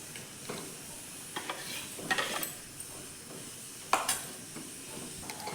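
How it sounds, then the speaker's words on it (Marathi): Papaya puree being stirred in a kadhai over a high gas flame: a steady soft scraping and bubbling sizzle, with occasional louder clicks of the spoon against the pan, close and without speech. "मोठ्या गॅसवरती बघा हे परतून घ्यायचं थोडं वेळ"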